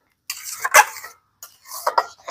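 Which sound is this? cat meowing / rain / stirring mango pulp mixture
stirring mango pulp mixture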